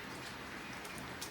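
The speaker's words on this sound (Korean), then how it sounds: "빗소리와 장작 타는 소리" Steady light rain patters around a wood-burning cooking fire pit, a soft continuous hiss with faint intermittent crackles from the burning firewood, no voices.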